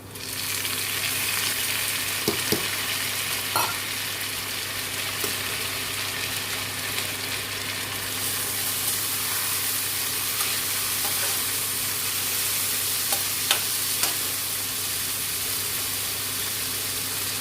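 Onions and tomatoes sautéing in a pan make a steady, loud hiss of frying, with a low constant hum underneath and a few faint clinks of stirring.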